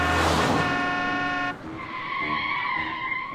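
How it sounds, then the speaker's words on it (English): A car in a motion comic narrowly misses a pedestrian, its tires squealing loudly in a sustained skid that cuts off abruptly partway through and leaves a fading engine tone. "Peter doesn't hear the auto which narrowly misses him until the last instant"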